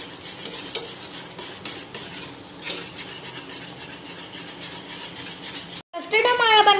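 A spoon stirs custard paste into milk in a pan with rapid, repeated metallic scrapes and clinks, close and fairly loud. A short gap follows, then a voice starts speaking.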